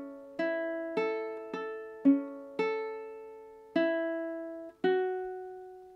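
Ukulele picking the opening two measures of Hotel California, seven clear plucked chords or notes ringing out one after another with long sustain, close and alone.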